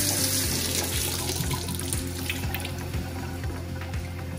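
Water runs steadily from a kitchen tap while zucchini flowers are rinsed beneath it, a close continuous splashing hiss with faint handling, no voices.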